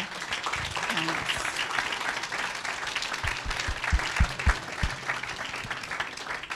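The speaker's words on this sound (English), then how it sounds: "Please join me in giving a big round of applause for our panelists." Audience applause for panelists at a discussion on Native Hawaiian self-governance, sustained clapping from a crowd with some low thumps and faint voices mixed in, swelling slightly toward the middle before easing.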